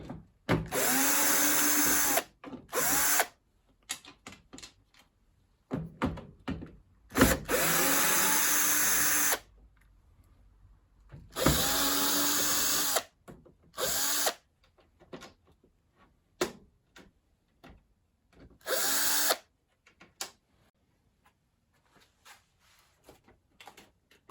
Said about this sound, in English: I'll unscrew this, and then 2 more in here. 3 more, in fact.